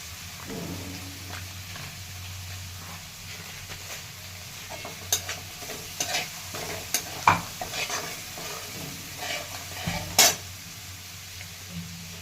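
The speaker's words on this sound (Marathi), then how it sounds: "भोपळ्याच्या फोडी छान हिरवी मिरची हे परतलेलं आहे" Pumpkin pieces sauté with green chili, garlic and ginger in a pan, giving a soft steady sizzle broken by scattered stirring clicks and scrapes of a utensil.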